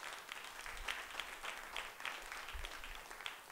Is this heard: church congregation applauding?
yes